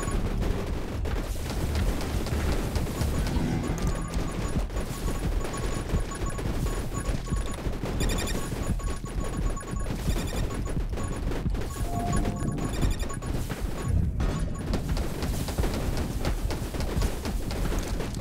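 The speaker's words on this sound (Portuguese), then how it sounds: "dispare automaticamente bolas de neve que causam 25 de dano da sua forma de cervo" Snowballs fire automatically in the action game 20 Minutes Till Dawn, a dense, continuous barrage of rapid impacts and bursts layered over busy game effects and music, loud and unbroken throughout.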